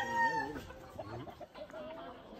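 A rooster crows loudly and close at a rooster farm in Puerto Rico, one long harmonic call followed by shorter clucks and calls from nearby fowl.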